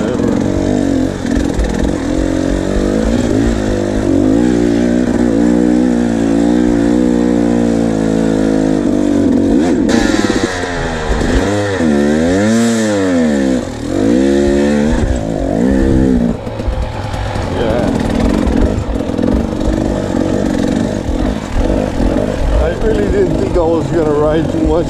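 A KTM 300 two-stroke dirt bike rides over hilly, good-traction soil at Kahuku, Hawaii, its engine loud and close throughout, revving up and down in repeated surges.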